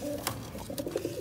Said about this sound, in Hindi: ये कबूतर और इसका बच्चा देखें कितना सा है